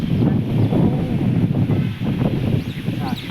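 Outdoor wind buffets the microphone during kite flying with friends, a loud, low, rumbling rush that swells and dips unevenly throughout.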